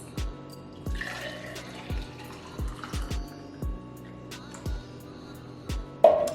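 Homemade grape and pomegranate juice is poured into a glass, heard close and fairly quiet as a run of irregular glugs and drips, ending in a louder splash.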